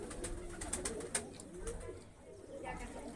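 Soft pigeon coos repeat in a low murmur over a busy, noisy background, with a few sharper clicks and taps scattered throughout.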